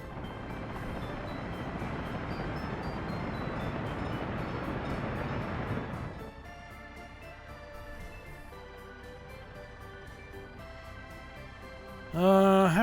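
A train in Workers & Resources: Soviet Republic rumbles along loudly for about six seconds, then drops to a quieter ambient game hum, and a brief sharp tone sounds near the end, with no talk.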